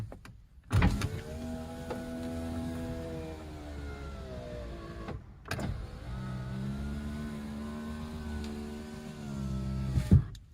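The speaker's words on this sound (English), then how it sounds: "Only a one-way automatic window for the driver's seat" A 2000 Toyota Corolla's power window motor runs in two long whirring strokes, each opening and closing with a thunk, close up and alone with no talking.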